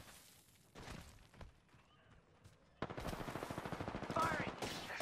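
Rapid automatic gunfire in Apex Legends, a few scattered shots at first, then a dense sustained burst in the second half, fairly quiet overall with faint background game sounds.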